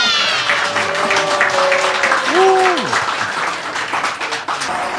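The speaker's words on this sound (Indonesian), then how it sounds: "Tepuk tangannya kurang rame." Loud, sustained applause from a crowd fills the whole stretch, with a brief tonal sound rising and falling through the middle.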